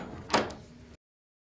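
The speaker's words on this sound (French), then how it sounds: "Il a ouvert la porte d'entrée." A front door swinging open in a house, a single soft thump and brief scraping creak close by, then fading into quiet room tone before cutting off abruptly.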